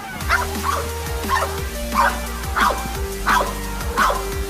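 Police dogs bark repeatedly in a steady rhythm during K9 training, loud and close, with whimpering yips between barks and a constant low hum underneath.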